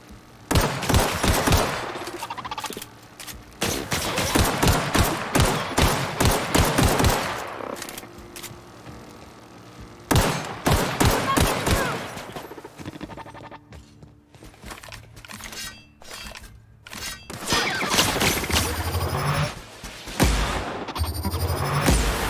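Rapid bursts of plasma gun gunfire from a sci-fi shooter game, The Outer Worlds, fired in long loud volleys with brief pauses, crackling and booming near and dense throughout, with a short lull midway before firing resumes.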